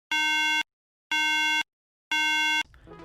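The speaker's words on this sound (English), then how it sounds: "This sound is an error sound that comes from an iMac and it sounds like this." Three identical electronic beeps from a 2007 iMac signalling a RAM error, each about half a second long, evenly spaced a second apart, loud and steady with silence between them.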